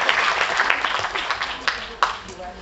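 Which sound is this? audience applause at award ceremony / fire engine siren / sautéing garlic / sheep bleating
audience applause at award ceremony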